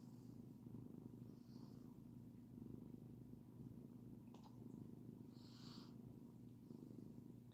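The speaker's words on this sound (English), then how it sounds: "She is really purring." A cat purrs close up in a steady, low rumbling rhythm that runs throughout, soft and continuous with a couple of faint rustles.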